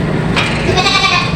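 Goats bleat at a livestock market amid broad crowd and yard noise, with one short, clear bleat standing out over the steady background.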